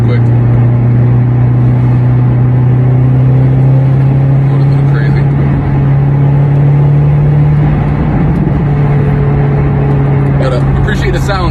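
A car drives along a bumpy road and its steady engine and road rumble fill the cabin from close by, while someone talks continuously over it.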